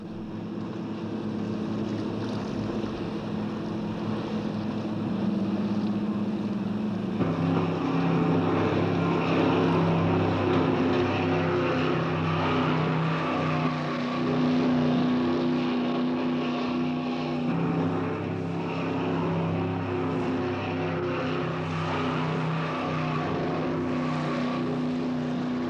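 A motorboat engine drones steadily with a propeller hum, shifting pitch partway through, heard from a moderate distance on the Alaskan coast, without voices.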